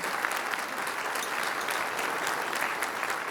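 Sustained applause from an evening audience at a speech, many hands clapping in a continuous, moderately loud crackle that stays even from start to finish, with no voices.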